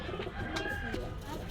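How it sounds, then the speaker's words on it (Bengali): Pigeons at a pigeon shop in Gallamari, Khulna, including a pair of Indian Kagji pigeons, coo softly in short bursts against steady shop background noise, with faint voices in the room. "এই এক পেয়ার ইন্ডিয়ান কাগজি কবুতর"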